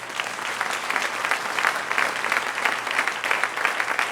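A church congregation at a Sunday service claps steadily for several seconds, a dense, even patter of many hands in a reverberant hall with no talk over it.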